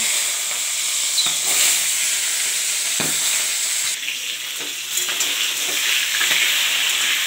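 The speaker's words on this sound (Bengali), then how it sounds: "এবার মাছটা ভাজবো" Rohu fish frying in hot oil, a dense continuous sizzle and crackle with occasional spatula knocks, loud and close, no voices.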